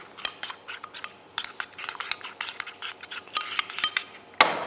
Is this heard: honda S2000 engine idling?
no